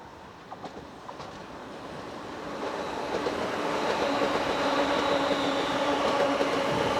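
A Class 380 electric multiple unit, 380-112, passing on an Ayr to Glasgow service, its rumble and wheel noise building steadily from moderate to loud as it approaches.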